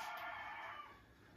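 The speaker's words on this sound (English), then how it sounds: "did you guys hear the rooster?" A rooster crows outdoors in Puerto Rico, a single sustained call heard from a moderate distance, fairly quiet and fading slightly toward the end, with no talking over it.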